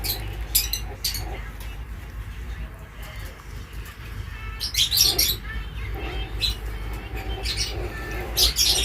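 Hand-fed yellow and lutino pet birds chirp in short high bursts, several clustered calls recurring through a noisy room with a low rumble, and people talk intermittently among the chirps.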